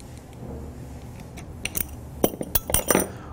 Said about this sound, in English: I want to go ahead and tighten that punch in place.